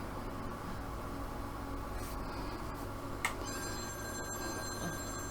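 A telephone rings inside the horror video game The Medium, a steady electronic ringing over a low ambient drone, joined by a sharp click and a rising high tone partway through.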